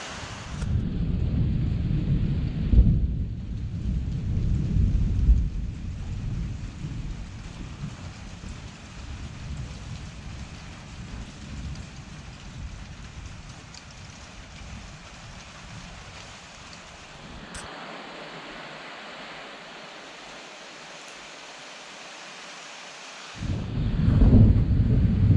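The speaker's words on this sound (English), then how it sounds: "Some more heavy thunder, lightning there, you've seen it as well." Heavy thunder rolls through a thunderstorm, a long deep rumble with wind and rain noise that fades midway, then a fresh loud crack near the end.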